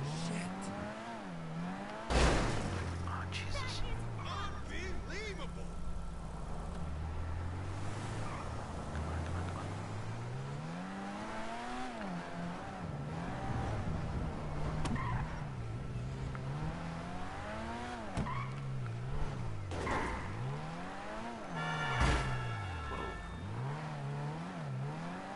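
Video game car driving, with the engine climbing and dropping through repeated revs and shifts and a few sharp bangs along the way. It stays fairly even and close without a break.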